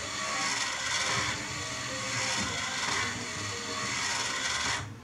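A cheap low-RPM DC gear motor running on a test bench, giving a continuous whirring, grinding hum with a faint rhythmic mechanical rattle, steady and close throughout.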